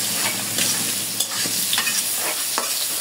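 Spice paste with green chillies sizzles in hot oil in a pan while a spoon scrapes and stirs it in repeated strokes, close up and fairly loud, with no talking.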